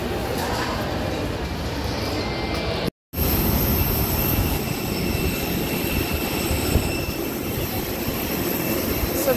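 Tacloban Airport ambience fills the space with a continuous loud rumble of engines and machinery, a steady broadband roar with a faint high whine and a brief dropout near the three-second mark.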